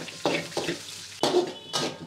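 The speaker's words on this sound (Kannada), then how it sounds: "ಇಲ್ಲಿಗೆ ಒಂದು 4 ಒಣಮೆಣಸಿನ್ಕಾಯಿನ ಹಾಕೊಂಡು ಕರಿಬೇವು, ಈರುಳ್ಳಿ ಇವೆಲ್ಲನೂ ಹಾಕಿ ಅದನ್ನು ಫ್ರೈ ಮಾಡ್ಕೊಳ್ಳೋಣ." Dried red chillies, curry leaves and onion go into a hot pan to fry for a village-style set dosa side, heard as repeated scraping stirs and clinks of a ladle against the pan with a light sizzle, close and without talk.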